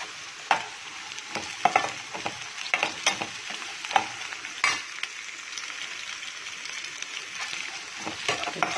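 Capsicum fries in a pan for poha while a spatula scrapes and stirs it in repeated distinct strokes over a steady, close sizzle.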